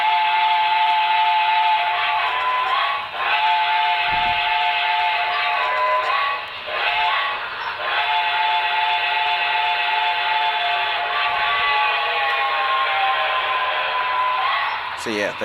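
Whistle of a Broadway Limited Reading T1 2100 model steam locomotive, a sustained chime-like electronic whistle sounding loud and close, with a few brief dips and pitch bends before it resumes, lasting about fifteen seconds.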